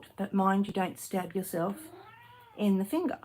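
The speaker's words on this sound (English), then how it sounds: "And that is my cat as well." A pet cat meows in a few drawn-out calls close by, mixed in with a woman's chatter nearby during a quiet slow-stitch sewing session.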